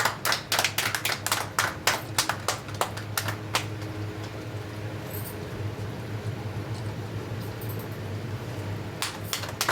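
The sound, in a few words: people clapping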